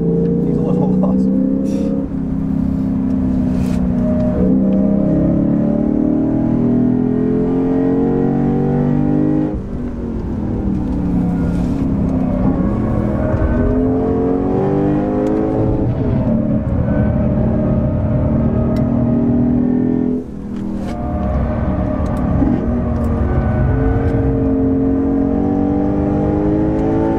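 A 2022 Lexus IS 500 F Sport Performance at full throttle on a hot lap at Eagles Canyon. The engine roars loud and close from the cabin, its pitch climbing repeatedly through the gears with brief dips at each shift.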